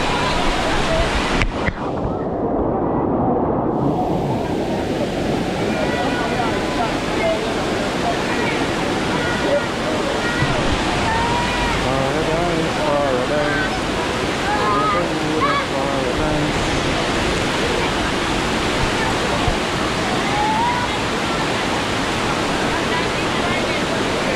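Heavy, continuous roar of cascading water at Dunn's River Falls in Jamaica, a dense wash of white noise holding steady throughout, close and loud with faint indistinct voices buried in the rush.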